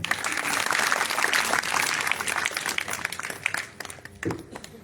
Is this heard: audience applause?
yes